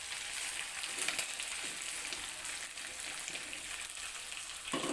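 Seasoned chicken, boiled beforehand, fries in hot oil with a steady, dense sizzle and crackle, close and constant throughout, with no talking.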